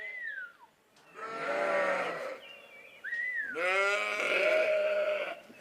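Sheep bleat nearby on a farm on Madeira: two long, loud, wavering calls, each preceded by a shorter higher cry, with no talking over them.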